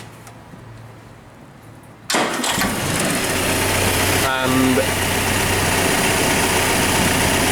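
A Land Rover engine, freshly swapped and with its ignition timing just adjusted, cranks and catches abruptly, then settles into a loud, steady close-range idle; a voice speaks briefly over it.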